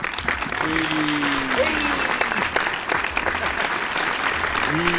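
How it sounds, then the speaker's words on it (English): A canned applause effect fires from a soundboard on a Formula 1 podcast, a continuous wash of crowd clapping with a voice talking over it throughout. "Another round of applause."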